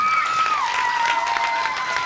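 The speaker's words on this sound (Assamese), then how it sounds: "হাত চাপৰি" Clapping from a children's cultural event audience after a girl receives an award, a steady dense patter of many hands lasting throughout, with a sustained tonal note running underneath.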